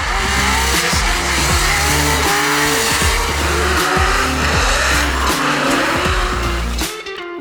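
A race car, a Nissan S15 on GT Radial tires, roars at high revs through the zones of a drifting course, with repeated gear changes and squealing tires, loud and close without a break until the engine drops away at the end.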